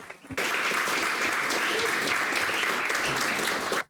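A church congregation applauds the worship team: a sudden burst of sustained, dense clapping starts abruptly, holds loud and even for several seconds, then cuts off sharply.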